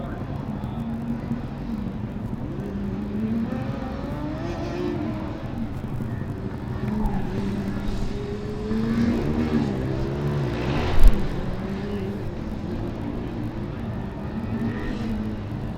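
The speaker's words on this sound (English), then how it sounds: "So we've got cars who are just coming through the slalom" Formula Student combustion race cars at Formula Student Germany 2012 autocross, running through a slalom, engines rising and falling in pitch as they weave past at middle distance, with a brief sharp rev near the end.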